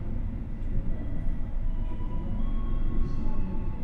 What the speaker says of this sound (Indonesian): Pukul 10:34, kereta api Mataram diberangkatkan kembali dari stasiun